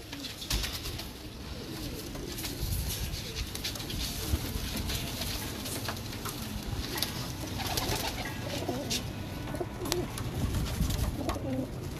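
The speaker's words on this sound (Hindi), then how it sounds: "अब ये अफजल कबूतर" Pigeons coo repeatedly in a busy, noisy setting, their soft throaty calls mixed with rustling and background clatter.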